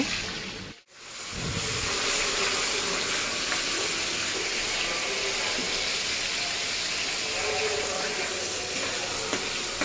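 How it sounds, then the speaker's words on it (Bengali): Marinated shrimp fry in hot oil over medium heat, giving a loud, steady, close hiss that surges just after a brief quiet moment at the start and then holds without letup. "চিংড়ি মাছটা তেলের মধ্যে দিয়ে মাঝারি আছে তিন থেকে চার মিনিট সময় নিয়ে ভেজে নিব"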